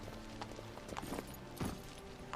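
Faint, steady clip-clop of a horse's hooves in The Witcher III video game, a quick walking rhythm of soft thuds under a low ambient bed, with no talking.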